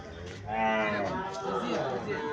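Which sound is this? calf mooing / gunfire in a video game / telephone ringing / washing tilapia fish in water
calf mooing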